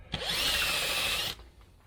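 A power drill bores out a hole in a front suspension or brake part of a Land Rover Series IIa, with one loud, steady whining burst of about a second that stops abruptly and leaves a quiet workshop.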